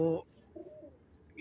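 A black-beaked (kalnoka) pigeon hen gives a soft, low coo, brief and close, with a short throaty burst at the start and end and quiet between.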